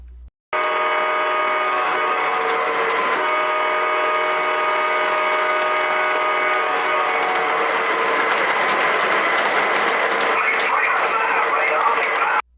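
An O gauge model train runs steadily along the track with a continuous electric whir and rattle, its tone shifting slightly as it draws closer.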